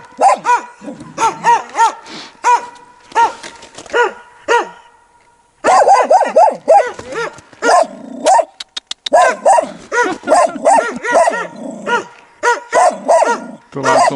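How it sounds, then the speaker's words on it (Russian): A nearby dog barks repeatedly outdoors in rapid, loud bursts with brief pauses, including yips and a growly edge, mostly unaccompanied by other sounds. "Чья-то собака вон там."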